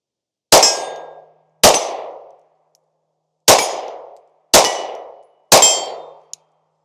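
Five loud, close shots from a Sig Sauer P226 X-Carry Legion pistol at an outdoor range, each a sharp crack with a short ringing decay, spaced about a second apart, ending in a small click.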